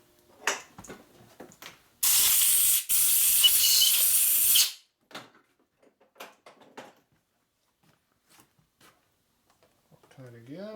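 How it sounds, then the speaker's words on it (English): Compressed air blasts cutting fluid out of a drilled hole in a Harley-Davidson 74ci FL/FLH panhead cylinder head during a rocker arm stud install, a loud sustained hiss of about 2.5 seconds amid light shop clatter and a short voice. "Cutting fluid out of the hole."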